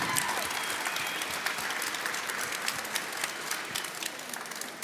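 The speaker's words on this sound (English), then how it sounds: "give them an applause" Audience applause at the Resuscitation 2018 CPR competition between the Netherlands and Czech Republic teams, a dense, steady clapping from a large crowd filling the hall for the whole stretch, loud and close, with faint voices mixed in.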